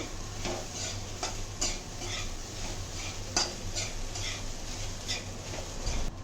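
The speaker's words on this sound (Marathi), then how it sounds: "आता असं चांगलं परतून घ्यायची." Ingredients for fasting khichdi being sautéed in a pan with salt, with steady scraping and stirring strokes and a few sharp utensil clicks over a constant low background hum, nearby and moderately loud.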